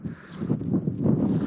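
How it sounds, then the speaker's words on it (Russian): Strong wind on a solo mountain hike in the Khamar-Daban range, a continuous low rumbling gust buffeting the microphone with no pause across the short stretch. "Ветер, конечно, дует лютый"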